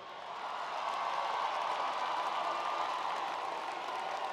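Audience applause at a spring college commencement for honors graduates, a steady wash of many hands clapping at moderate distance, fairly faint and even throughout.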